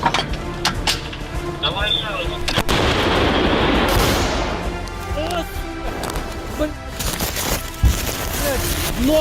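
Artillery gun opening fire in a combat zone in Ukraine, a sharp loud blast followed by a long rumbling roar, with further distant booms and radio chatter around it.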